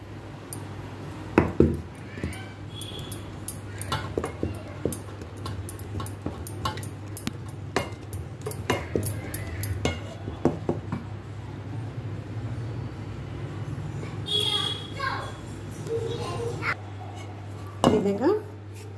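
Flour being stirred into hot jaggery syrup in a pot for Bellam Ariselu, with repeated scraping and clinking of a utensil against the pot over a steady low hum, broken by occasional louder knocks.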